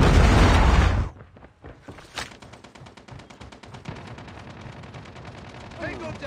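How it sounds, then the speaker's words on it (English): Video game deathmatch on the sea in Call of Duty Mobile: a loud blast from a predator missile that cuts off abruptly, followed by rapid sustained gunfire crackling at moderate distance. "Friendly predator missile inbound."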